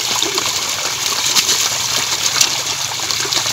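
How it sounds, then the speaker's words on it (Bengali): Water gushing and trickling steadily from a cracked irrigation pipe in a papaya field, a continuous close rush with no talk over it. "দেখুন এবার জল আসছে, তাও ফেটে আছে এক জায়গায়, সেখান থেকেও জল পাস হচ্ছে।"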